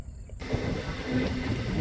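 A long train stands at platform 6 of the Hubballi railway station, its low rumble and hiss filling the scene steadily after a brief quieter opening, with faint squeals and no voices.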